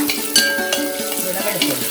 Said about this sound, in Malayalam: അതിലേക്ക് ചെറിയുള്ളി അരിഞ്ഞത്, വട്ട അരിഞ്ഞതായിട്ട് ചെറിയുള്ളി.